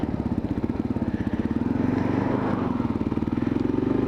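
A 2022 Kawasaki KLR650 single-cylinder motorcycle rides along, its engine thumping in a fast, even pulse that swells slightly as the throttle opens, moderately close and alone.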